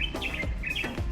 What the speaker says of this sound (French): Il y a plein d'oiseaux, des merles, des bulbules.